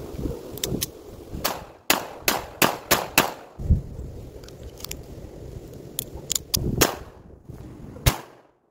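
Federal Punch 29 grain rounds fired from a semi-automatic, heard as a dozen or so sharp, loud, close reports in uneven bursts and singles, with quiet mechanical handling between shots and no talk.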